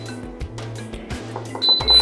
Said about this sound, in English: Once you hear the beep, do not vent it yet